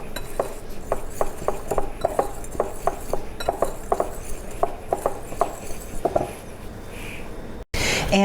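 Flour, baking soda, salt and ground cinnamon are stirred together in a bowl for oatmeal cookie dough, producing a regular series of light utensil clinks and taps against the bowl over a soft steady background.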